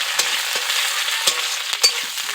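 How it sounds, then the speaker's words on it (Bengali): Chopped onions fry in hot oil with dried red chili pieces, giving a steady close sizzle broken by a few sharp crackles and spits. "পেঁয়াজটাকে হালকা করে ভেজে নেব।"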